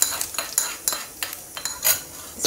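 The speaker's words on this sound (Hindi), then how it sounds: "अब ये जो हमने तड़का बनाया है वो इसमें डाल देंगे।" Tempering of mustard seeds and green coriander being poured into idli batter and stirred with a spoon, giving a series of short scraping clinks against the bowl at a steady rhythm, close and fairly loud with no talk.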